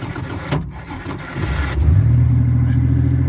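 A leaky V6 engine cranks and catches, then settles into a loud, rough, close idle with a steady low rumble.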